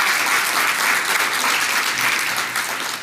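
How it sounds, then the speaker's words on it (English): An audience at a panel discussion applauds a departing speaker, loud, dense clapping filling the room without a break. "Let's give Dr. Hill a round of applause"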